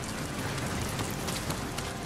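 Steady, dense rain falls in Ghost of Tsushima, a constant patter of drops with no pauses and no voices.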